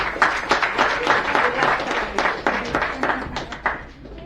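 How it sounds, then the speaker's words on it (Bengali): Applause at a tribute gathering for a music teacher, many hands clapping in a lively, uneven patter that stays fairly close and loud throughout, with faint voices mixed in. "ম্যামের জন্য একটা জোর হাততালি হবে।"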